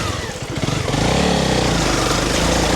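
Honda CRF300 Rally trail bike engine droning steadily at close range while riding a rocky, sandy trail, the note rising slightly as the throttle opens, loud and continuous with wind noise.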